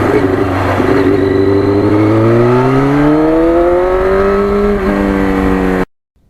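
A 1991 Yamaha FZR 1000 motorcycle engine, fitted with new brake rotors and reworked carburetors, roars loudly and steadily as it pulls up through the revs on an open road, then cuts off abruptly.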